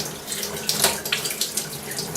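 A paint sprayer part being swirled in water to clean it gives a close, soft, continuous sloshing with small splashy peaks, fairly quiet and with no talk.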